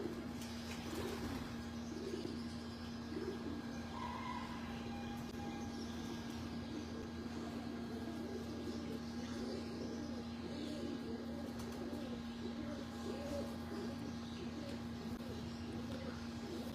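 Pigeons on a Lahore rooftop give repeated soft, throaty coos in a continuous cluster, set over a steady hum and background murmur that runs throughout at moderate distance.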